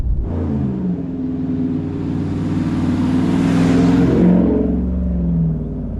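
A 2019 Ram Rebel pickup truck driving, its engine giving a loud, steady low rumble that swells as it revs and accelerates midway, then eases slightly, heard close up with no talking.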